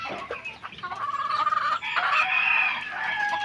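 Chickens cluck in a farmyard, their calls overlapping, and a rooster crows a drawn-out cry that rises and trails off, close by and moderately loud.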